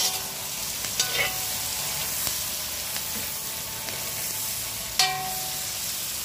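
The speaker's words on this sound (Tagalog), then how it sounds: "tapos ihalo-halo na natin sila lahat" Red and green chili peppers and carrots fry in a pan with a steady, close sizzle, broken by a few sharp scrapes and knocks of stirring.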